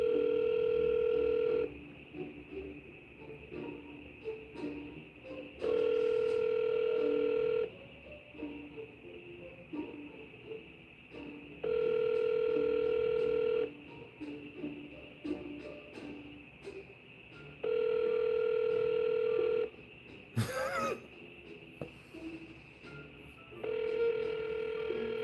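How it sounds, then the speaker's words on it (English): Telephone tones repeat in long, even bursts several times across the stretch while dialing through to voicemail, loud and regular with quiet gaps between them and one sharp click near the end. "To go directly to voicemail, press star."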